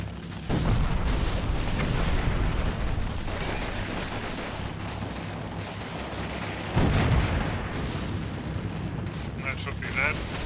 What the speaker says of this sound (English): they're shooting from over there